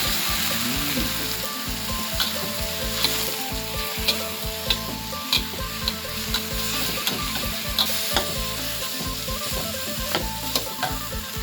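Eel pieces stir-fry with aromatics in a pan, giving a loud, close, continuous sizzle with regular rhythmic spatula clacks and scrapes against the pan.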